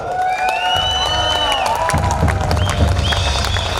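A large crowd at an event cheers, whoops and claps to welcome a guest speaker, with high shouts and whistles over dense steady applause, loud and continuous throughout.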